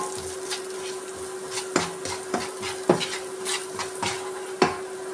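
Chilli powder, salt, turmeric and dried chilli seeds being sautéed in a pan for spicy noodles, heard as a steady low hum with a handful of sharp utensil scrapes and knocks against the pan, no voices.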